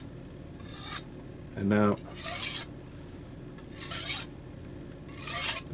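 A knife is sharpened on a coarse clay brick in several separate rasping strokes, each a short close scrape, with a brief spoken phrase between the first strokes.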